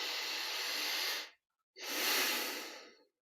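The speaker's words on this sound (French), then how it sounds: "Une grande inspire." A deep, steady inhalation during a guided meditation, heard close and alone, a long airy intake followed by a brief pause and a second long breath.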